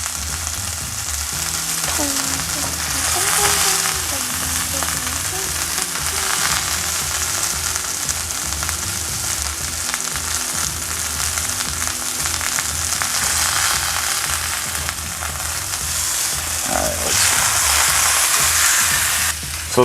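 A pot roast browns in a hot pan with a loud, continuous close-up sizzle that swells and eases slightly over about twenty seconds, with occasional faint scraping.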